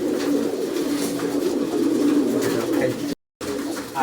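Pigeons cooing in a loft, including a newly paired male and female, a continuous close, low, throaty cooing that runs throughout with a brief gap near the end.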